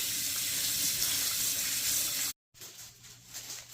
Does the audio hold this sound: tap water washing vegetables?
yes